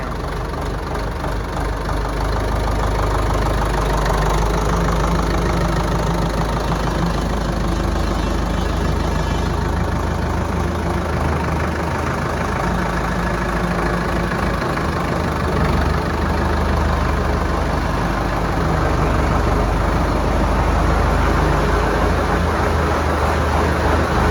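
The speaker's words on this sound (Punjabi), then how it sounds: "ਸਟਾਰਟਿੰਗ ਚੈੱਕ ਕਰੋ ਟਰੈਕਟਰ" An HMT 5911 tractor engine idles steadily for a long stretch, a loud, close, low rumbling chug with no voices.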